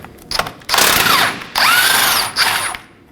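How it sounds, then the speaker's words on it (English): A 19mm socket on a power tool spins out the lower control arm bolt on a 2020 Toyota Corolla front suspension, a loud buzzing whir in three bursts with brief pauses, no talking. "remove it using a 19mm on the bolt side and a wrench on the nut side"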